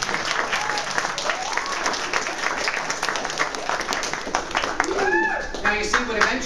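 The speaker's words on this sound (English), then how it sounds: "And give a round of applause." Loud, sustained clapping fills the room as an audience applauds a team, with scattered voices and a brief whoop rising over the applause toward the end.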